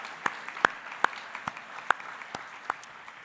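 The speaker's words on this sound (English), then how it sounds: "So a round of applause for all three once more." A few scattered claps at a think tank pitch competition, sparse and irregular, quiet and spaced about half a second apart, with no talking over them.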